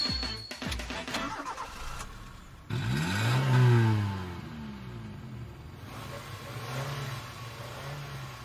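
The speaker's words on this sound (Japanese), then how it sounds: "ちょっとエンジンかけてみろよ" A Toyota AE85 with a stock muffler, in an anime scene, cranks and fires up, then revs in rising and falling sweeps before settling into a rough, mid-pitched idle. The engine is close and fairly loud.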